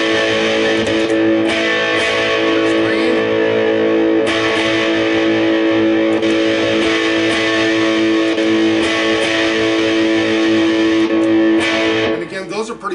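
An electric guitar runs through the OD2 overdrive channel of a Marshall JVM410C amplifier, heavily distorted sustained chords ringing loudly and continuously before cutting off abruptly near the end.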